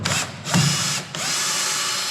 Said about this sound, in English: Battery on the drill is a little low.